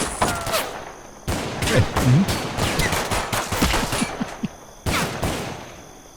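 Rapid bursts of gunfire crackle through a zombie apocalypse colony survival strategy game, with overlapping volleys and sharp single shots. The firing comes dense and loud and pauses briefly between salvos, and a voice speaks a word at one point.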